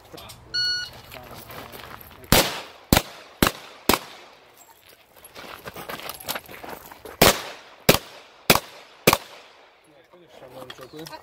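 Eight sharp pistol shots crack at a USPSA Production-division shooting stage, fired in two quick bursts of four, loud and close with short pauses between them.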